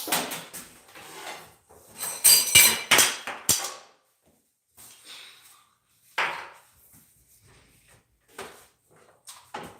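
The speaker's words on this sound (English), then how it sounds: "so I'll just grind all my peppers" Dried peppers are ground by hand for a fish spice mix, with loud scraping, knocking bursts in the first few seconds, then scattered softer grinding strokes and taps with quiet gaps between them.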